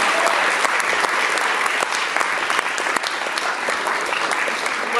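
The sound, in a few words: audience applause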